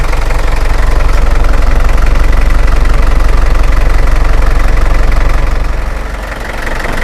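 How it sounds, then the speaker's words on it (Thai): Hino FC9J 175 hp diesel engine on a 4-cubic-metre concrete mixer truck idling, a loud, steady, rumbling clatter heard up close, dipping briefly near the end. "สภาพเครื่องยนต์นะครับ 175 แรงม้านะครับ"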